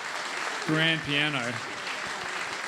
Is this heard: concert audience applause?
yes